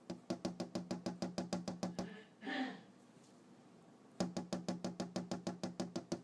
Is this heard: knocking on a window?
yes